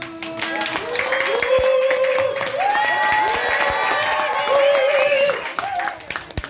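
Applause from a theater audience at a Daehangno play, scattered clapping with tonal music and voices mixed in, fairly close.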